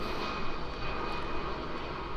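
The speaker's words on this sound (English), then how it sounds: "man, those planes are loud." Airplanes roar overhead in the video game Fallout 76, a loud, steady, broad engine drone that fills the whole moment without letup, no talk.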